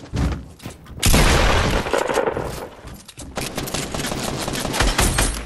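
Rapid bursts of automatic gunfire from the Fortnite video game, played on console, rattle loudly and densely over several seconds, with a heavy blast near the one-second mark followed by continuous crackling shots and thuds.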